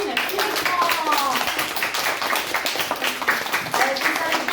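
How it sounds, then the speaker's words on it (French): Audience applause on a French broadcast, a dense stretch of clapping running steadily throughout, with voices faintly audible underneath. "On applaudit, merci Bertrand."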